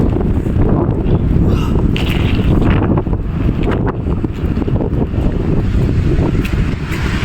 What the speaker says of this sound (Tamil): காற்று வேறு இங்கே செம்ம ஹெவியாக இருக்குது.